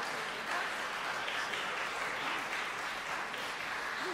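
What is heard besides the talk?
applause at a Chopin College concert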